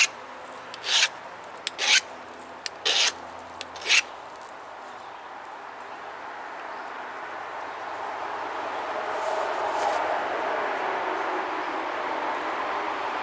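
A flintknapping pressure flaker is sharpened by filing, with a few sharp, close rasping strokes in the first four seconds, followed by a steady quieter hiss of rubbing.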